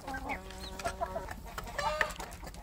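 Free-range village chicks (ayam kampung) peeping and chirping in a rapid, overlapping cluster of high calls, close and moderately loud, with no talking.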